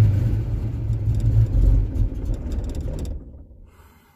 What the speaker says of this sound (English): True cold start after 3 days. New plugs, new wires.